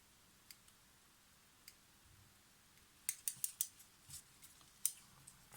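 Small scissors snip a loose fiber while a Zorki 6 camera's shutter curtains are being replaced, giving quiet, close, crisp clicks in a quick cluster of four or five, then a couple of isolated snips.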